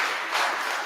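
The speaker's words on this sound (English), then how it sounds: "round of applause." Lecture audience applauding at the end of a talk, a dense steady wash of many hands clapping at once, fairly loud and even throughout the short burst with no voices.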